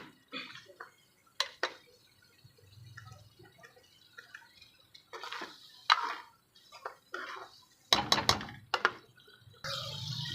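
Spoon stirring green beans and potatoes in thick masala gravy in a pan, giving scattered wet squelches and occasional clinks against the metal, fairly quiet and intermittent.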